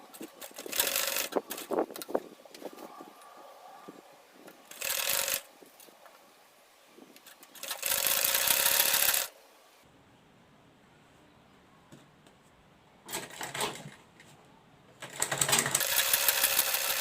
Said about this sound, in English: Place it on it like this, and we are going to stitch.